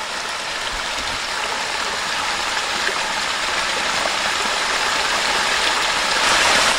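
A small waterfall at Jacoby Falls in Loyalsock State Forest rushes with a steady, dense hiss of falling water, even and unbroken, swelling slightly louder near the end.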